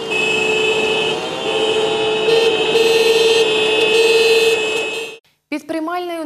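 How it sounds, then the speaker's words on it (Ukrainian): Car horns sound at length from a protest convoy of activists circling the area, a loud sustained honking that shifts in pitch, then cuts out and a voice begins speaking. "Активісти об'їхали територію гучно сигналячи в клаксони."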